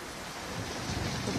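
A thunderstorm with steady rain and low rumbling thunder that grows louder through the short stretch, filling the sound with dense hiss and rolling bass.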